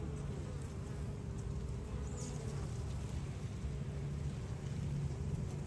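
Bees hum around an open hive during an inspection in a continuous, dense buzz close by, steady in loudness with no talking.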